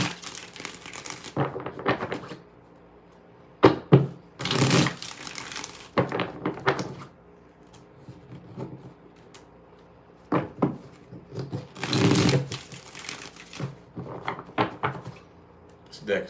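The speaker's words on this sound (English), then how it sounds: "Let's get 7 shuffles here." A tarot deck is shuffled in several separate bursts of crisp riffling and card slapping, close and loud, separated by quiet pauses.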